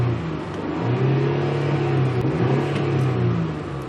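Mercedes-Benz ML 320 W163 SUV with 181,350 miles revving steadily, a loud close rumbling engine note that swells and dips through a continuous run with no voices.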